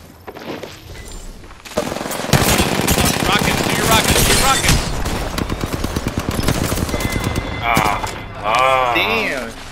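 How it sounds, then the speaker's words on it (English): Gunfire in Apex Legends comes as rapid, close, loud automatic bursts that crackle over several seconds, with people talking toward the end. "I was taking on three people shooting at me"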